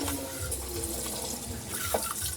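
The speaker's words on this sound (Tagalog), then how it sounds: "Hugasan natin yung bigas at isaing kagaya ng normal na pagsaing ng bigas." Rice being washed under a running tap, a steady broadband rush of water into a sink that holds fairly even throughout, close and unbroken, with no voices.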